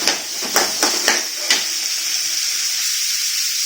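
Small shallots sauté in a pan for a coriander thovayal, a steady sizzle after a few sharp knocks of a spoon against the pan at the start.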